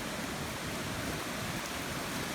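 Floodwater in the Loxley Valley river channel rushes in a dense, steady hiss and roar, close and continuous, with no voices over it.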